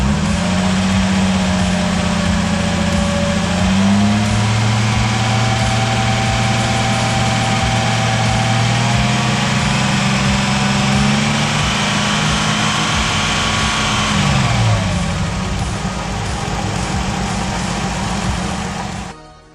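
Datsun 280ZX engine running loud and close, its steady idle rising as throttle is slowly applied and held, then settling back down near the end, with no talking.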